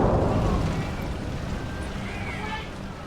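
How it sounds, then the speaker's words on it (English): Burning crude oil explodes in a lakeside town, a heavy roaring blast with a dense low rumble that starts loud and slowly fades, with no speech. "And then the explosion happened."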